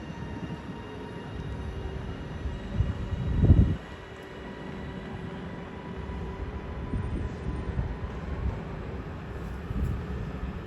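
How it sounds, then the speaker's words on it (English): Northern Class 331 electric train departing Deansgate station, a moderate steady rumble of rolling stock with a brief louder thump in the middle, then the train noise continuing evenly. "Now making our preparations to depart now is 331031, working the delayed 1400 Northern Service to Liverpool Line Street from Manchester Airport."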